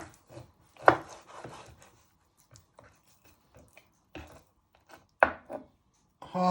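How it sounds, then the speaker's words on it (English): A knife chops raw chicken on a board, with several sharp separate thuds and a couple of louder whacks spaced irregularly and close by, with no talking. "First step to do is to chop your chicken in half."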